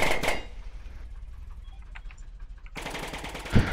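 Machine gun fire in the Brick Rigs building game, a loud rapid burst at the start, then a quieter stretch with faint scattered clicks, and another loud burst near the end.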